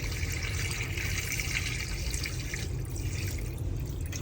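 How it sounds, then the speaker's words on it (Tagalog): Water draining from grated cassava, a steady trickling and splashing liquid sound, close and continuous at low level without talk. "Tatanggalan natin siya ng tubig."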